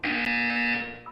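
Portal 2 test-chamber buzzer: a loud, steady electronic tone held for about a second, then cut off abruptly.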